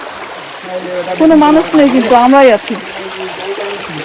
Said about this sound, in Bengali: প্রচুর জলের স্রোত, কারণ উপর থেকে অনেক ফোর্সে কিন্তু পানিগুলো নামছে